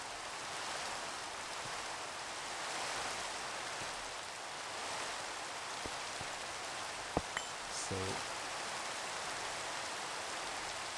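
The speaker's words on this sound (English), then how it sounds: "why is it always raining here?" Steady rain in a Minecraft modpack game hisses as a continuous, even wash of broadband noise, with a couple of faint clicks and a brief tonal blip near the end.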